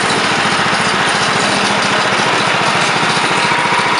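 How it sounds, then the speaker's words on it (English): Wood-Mizer sawmill head running along a log, a loud, continuous engine drone with a rapid pulsing rhythm, close by and steady throughout, with no talking. "Now we'll just back the saw"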